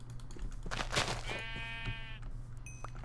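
A Minecraft sheep gives a single nasal, wavering bleat over a steady low game hum, clear and close.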